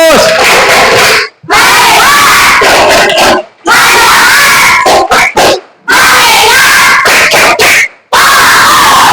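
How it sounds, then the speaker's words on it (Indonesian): Classroom students chant and clap together in a rhythmic focus routine, with loud group shouts and claps coming in several bursts separated by brief pauses. "Terima kasih atas tepuk fokusnya."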